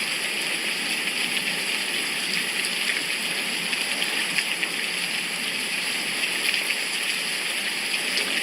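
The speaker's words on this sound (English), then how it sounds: "see that downpour" Heavy rain pouring down in a steady, dense hiss of water with no break or rhythm, loud and close throughout, and no voices.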